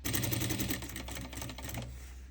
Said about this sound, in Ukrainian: складаємо лице до лиця і даємо строчку на 1 см